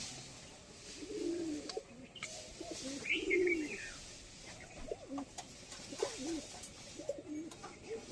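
A female pigeon gives a few low, faint coos up close, with quiet pauses between the soft calls.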